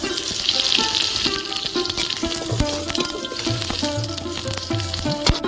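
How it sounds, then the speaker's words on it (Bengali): Tomatoes fry in oil with a constant, close, bright sizzle, while steady tonal sounds rise and fall in the background. "টমেটোগুলো ভেজে নেব"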